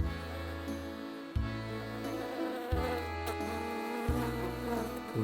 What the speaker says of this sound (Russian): Летит мимо муха горюха.